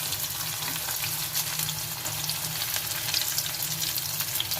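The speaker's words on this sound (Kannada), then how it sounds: "ಸೊ ನಾನು ಇದಕ್ಕೆ ಹಚ್ಚಿಟ್ಕೊಂಡಿರೋಂಥ ಈರುಳ್ಳಿ ಹಾಕ್ತಾಯಿದ್ದೀನಿ." Chopped onions sizzle and fry in hot oil in a pan, a steady, even crackling hiss that holds close and consistent throughout with no talking.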